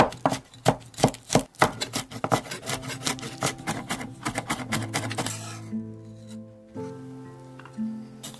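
Rapid knife mincing of garlic on a wooden board, a quick run of sharp taps that slows and softens before fading under a low hum.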